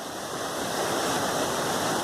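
A rain-swollen waterfall on the Appalachian Trail roars in a steady, dense rush of falling water, loud and unbroken with no voices.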